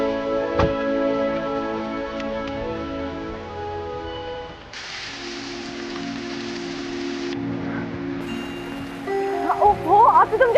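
Heavy rain falls as a broad, steady hiss that swells in the middle of the scene, mixed under sustained tonal background music, with brief sharp sounds near the end.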